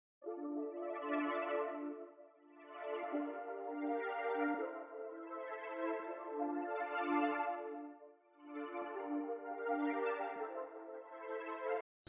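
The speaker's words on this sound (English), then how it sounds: "So this is just an ambient pad," A soft ambient synth pad swells and fades in slow, overlapping waves, a warm sustained layer of tones rising and falling about every two seconds, played alone without any voices.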